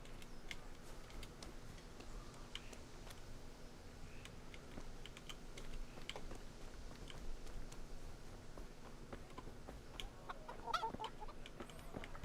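A chicken clucks softly in the medieval role-playing game Kingdom Come: Deliverance, with scattered faint ticks and clicks over a low, steady ambient hum and no one talking.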